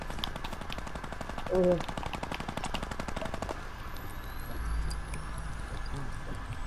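Gunfire in the video game Fortnite: a rapid automatic burst of shots over the first few seconds, followed by quieter game ambience with a low rumble, while a player says a few words.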